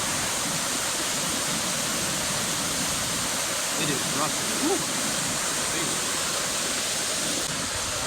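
Waterfall at Devil's Kettle on Kettle Falls, a steady broadband roar of falling water that fills the whole clip, with someone speaking briefly and letting out a short whoop over it.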